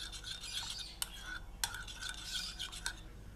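A spoon lightly whisking yogurt in a bowl for chicken tikka marinade, giving soft, quiet scraping and swishing with two or three sharper clinks of metal against the bowl.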